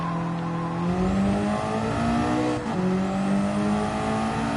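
Race car engine in the Gran Turismo 7 video game, a steady loud drone with gear-shift pitch rises and a brief dip midway, continuous and close with no talk.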